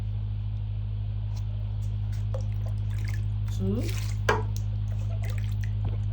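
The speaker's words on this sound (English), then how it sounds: "I'm adding 30 cups of water. I'm using a regular measuring cup." Water poured cup by cup into a cooking pot while making zobo drink: brief gurgling pours over a steady low hum, with a voice speaking nearby.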